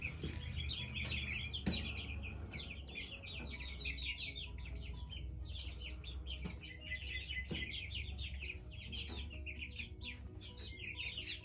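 A flock of homestead chickens clucks and chirps continuously around a coop, close and moderately loud, with occasional knocks and thumps amid the steady chatter.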